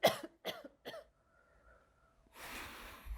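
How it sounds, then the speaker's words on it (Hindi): Several sharp coughs in a quick cluster near the start, close and loud, then a short quiet stretch before a burst of breathy noise at the end. "ऊपर से बड़ी खांसी आ रही है तेरे को"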